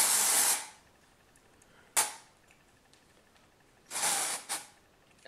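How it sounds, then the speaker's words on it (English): Batiste dry shampoo for dark and deep brown hair sprayed onto the hair in three short bursts, a loud half-second hiss, a quick puff, then a double spray, with quiet between. "Okay, so I sprayed it down the middle so that you can sort of see what that looks like."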